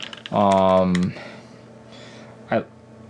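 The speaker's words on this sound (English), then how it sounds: "on my initial typing, this board feels pretty good" Keystrokes on a Viktus Deltablade mechanical keyboard with a soft, non-stiff feel, heard as quiet scattered clicks beside a sustained voiced tone and a short burst near the end.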